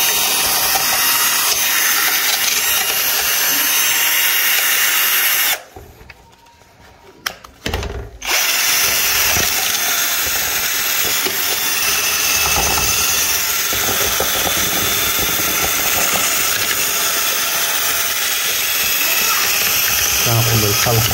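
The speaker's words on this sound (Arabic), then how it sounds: "طبعا سأستخدم الخلاط" Electric blender or mixer whirring loudly as sugar fondant paste for beehives is mixed, a harsh continuous motor drone that cuts out briefly for a couple of seconds and then resumes, with someone talking in between.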